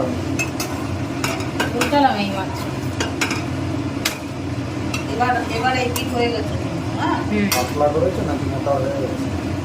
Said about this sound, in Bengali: মা বেলে দিচ্ছেন আর আমি এইদিকে ভাজছি তেল লাগবে